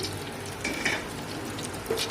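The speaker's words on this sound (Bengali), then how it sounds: "ওই তেলেতে এলাচ লং দালচিনি তেজপাতা দিয়ে দিচ্ছি" Whole cardamom, cloves, cinnamon and bay leaves dropped into hot oil for chicken biryani give a soft, steady sizzle and crackle, fairly quiet with a couple of brief louder pops.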